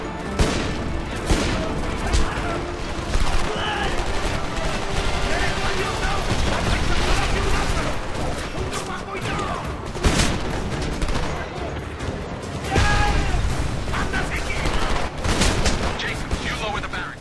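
Sniper rifle gunfire in the video game Homefront, sharp cracking shots recurring over a dense, loud battle mix of other gunfire and explosions, with someone talking over the action.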